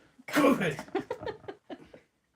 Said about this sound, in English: Stop coughing, how dare you cough.